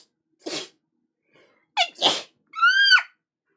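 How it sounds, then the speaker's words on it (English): A series of sneezes, alone and close: a sharp first sneeze, then a quick double sneeze followed by a loud, drawn-out one. "my sneezes have been so aggressive lately."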